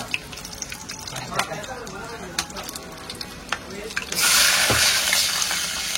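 Water is poured into a sizzling pan of tempering with chillies, a sudden loud hissing rush after scattered frying crackles and utensil taps; people talk throughout.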